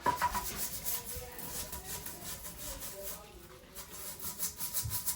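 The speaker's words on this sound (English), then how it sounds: "go over here and scrub this out" A bathroom surface is scrubbed with a foaming cleaner, with repeated close rubbing strokes at a quick, fairly regular rhythm.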